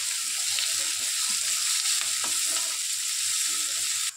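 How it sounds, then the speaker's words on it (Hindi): Curry leaves and chopped onion sizzle in hot oil in a pan as they are stirred, giving a steady bright frying hiss with faint scraping stir sounds underneath and no talking. "साथ ही मैं डाल दूंगी इसके अंदर कड़ी पत्ता। अच्छे से इन सभी को मिक्स कर लेंगे।"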